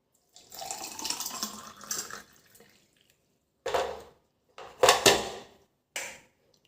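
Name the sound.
pouring warm water for lemon drink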